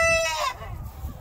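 Chickens in an enclosure cluck nearby, with a loud drawn-out crowing-like call at the start fading into soft, low clucks.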